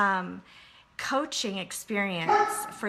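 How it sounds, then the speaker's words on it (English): A pet dog barks indoors in short yaps mixed in with a person talking close to the microphone. "ooh, sorry about my dog."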